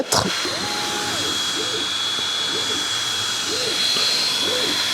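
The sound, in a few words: Creality Falcon 2 laser cutting through hard wood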